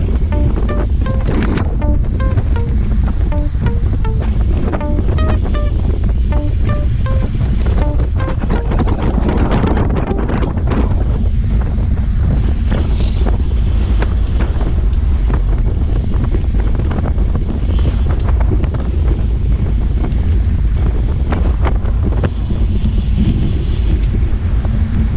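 Strong, constant wind rushing and buffeting over the microphone of a cyclist on a group road ride in Richards, Texas, a loud roaring blast with no pauses throughout.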